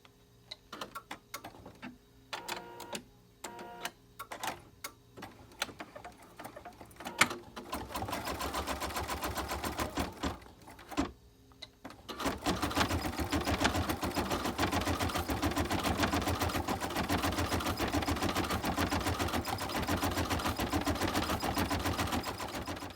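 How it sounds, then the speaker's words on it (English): A computerized embroidery machine stitches a diamond quilting pattern on an in-the-hoop zipper bag, its needle tapping in a steady fast rhythm that becomes a dense, continuous loud whir in the second half. "So I'm going to go ahead and start my machine on the quilting sequence"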